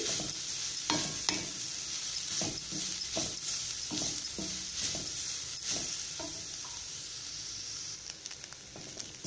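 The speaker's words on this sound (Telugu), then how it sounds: "ఇప్పుడు ఇదే ప్యాన్లో మనం క్యారెట్ వేసుకుందాం క్యారెట్ వేసుకొని చక్కగా ఫ్రై చేసుకోవాలి" Carrots fry in a pan for a carrot laddu, giving a steady close sizzle broken by repeated scraping and tapping strokes of a stirring spoon, with no one talking.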